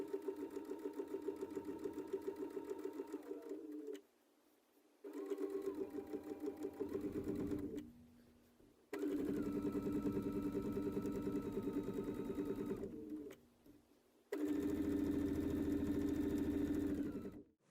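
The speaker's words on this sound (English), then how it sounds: "Now let's see what this would look like when quilting on a domestic or a sit-down machine." A domestic sit-down sewing machine doing free motion quilting, a loud fast rhythmic hum in four long runs separated by brief pauses, alone and close.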